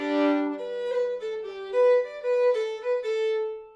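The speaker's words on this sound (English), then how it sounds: "I am using my bow to play both the open D and the open G below that." Two bowed fiddle strings, open D and open G, sound together in a sustained double stop, rich and close, with the bow moving through several smooth strokes and no talking.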